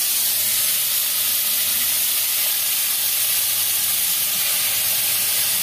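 Prawns frying in a home kitchen pan give off a steady, loud hiss of sizzling oil that holds unbroken throughout, with no talking.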